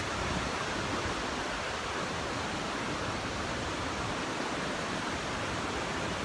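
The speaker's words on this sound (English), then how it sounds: "Look at this beautiful creek." Steady, broad rushing water fills the scene continuously, a close, even roar of a flowing creek in Kings Canyon National Park with no other sounds.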